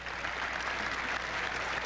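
A tennis crowd at a 1989 Boca Raton semifinal applauds steadily, a dense, even wash of clapping heard from a distance that continues without a break.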